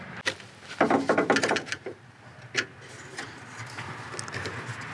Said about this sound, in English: Take the screw out on the other side.